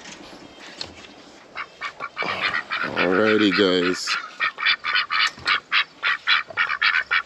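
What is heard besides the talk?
ducks quacking at feeding time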